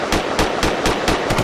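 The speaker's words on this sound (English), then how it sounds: "Hit them gunshots." Gunshot sound effects fire in a rap song, a rapid run of about six sharp, evenly spaced blasts punching through the beat.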